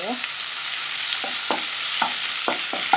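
Pork stir-frying in a pan with bell peppers and garlic, a dense continuous sizzle under repeated short utensil scrapes roughly every half second, close and loud, without any talking.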